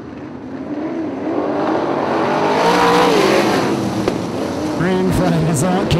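Race cars roaring around a dirt oval during feature races, engines revving loudly and rising as they come past close by, with crowd and track noise beneath.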